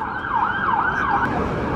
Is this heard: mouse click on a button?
no